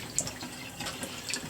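Water is poured onto a down camping blanket with cotton stitching, giving a close, continuous splashing and trickling with faint drips over about a second and a half, with no talk.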